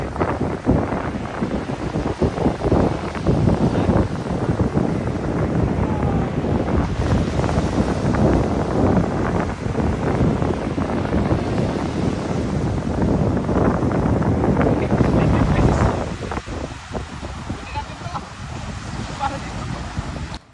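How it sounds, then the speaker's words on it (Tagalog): Strong wind buffets the microphone with a continuous loud rumble and roar, easing slightly near the end. "ang lakas-lakas ng hangin"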